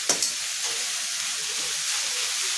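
Coconut rice sizzles steadily as it is stirred and sautéed in a pan, a constant close frying hiss with a few sharp scraping clinks of the spoon near the start.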